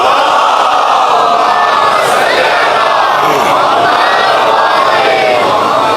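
A large majlis crowd at a mourning gathering in Karachi chants salawat loudly in unison, a dense, steady roar of many voices that carries on without break from start to end.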